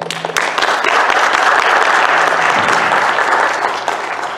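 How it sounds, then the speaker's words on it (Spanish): An audience at a national gathering of film critics and journalists applauds warmly for a speaker, producing a loud, full clatter of clapping that swells quickly, holds steady and eases slightly near the end. "con un fuerte aplauso"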